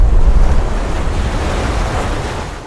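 Sea waves wash and roar with wind buffeting the microphone, a loud, continuous low rumble that gradually eases.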